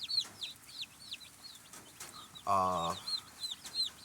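Newly arrived mail-order baby chicks peep in a steady, busy stream of high, bright chirps, with one louder, more tonal call breaking in briefly near the middle.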